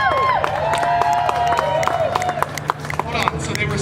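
A Disneyland holiday show crowd cheers, with whoops, clapping and babble layered loudly together while a voice carries on through the noise.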